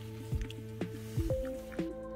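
A puppy laps up water from a bowl outdoors during a cold snowstorm, producing a few quiet, wet slurping and dripping sounds at an uneven rhythm, close by and soft.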